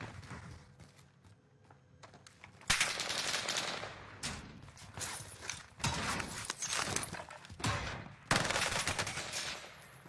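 Video game gunfire in rapid bursts, machine-gun rattles and single shots cracking loudly in clusters with short gaps, mixed with mechanical clanks and no talking.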